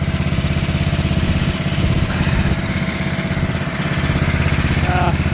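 A cold MIVA VA15 mini excavator engine idles close by with a steady, throbbing diesel chug, held at low revs without any change in pitch, and a brief faint chirp near the end.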